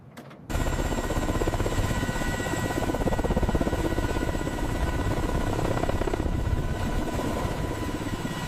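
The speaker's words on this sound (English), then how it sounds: "The colossal Mi-26 prepares for its inaugural flight, a testament to unparalleled engineering." A giant Mi-26 heavy-lift helicopter in flight, its rotor thumping in a steady rapid beat under a constant engine drone, loud and close from start to finish.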